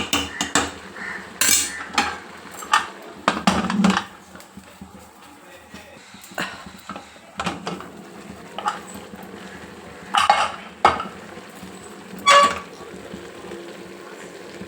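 Goat head curry fries in oil in a metal pan while a spoon stirs it, making irregular sharp clanks and scrapes in uneven bursts over a quiet low sizzle.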